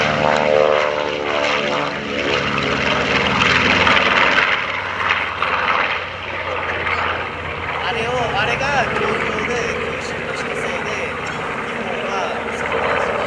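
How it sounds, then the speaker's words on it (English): North American B-25 Mitchell bomber with two 1,700 horsepower radial engines, flying at an air show; a steady, loud propeller drone that holds throughout, with a faint voice over it. "Listen to the sound of the B-25 Mitchell bomber."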